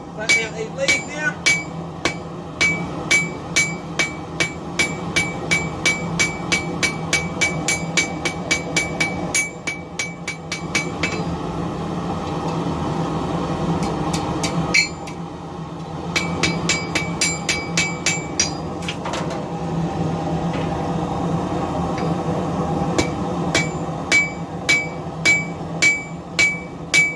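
A hammer forges and flattens metal leaves with loud, rapid, ringing strikes in repeated bursts, separated by short pauses.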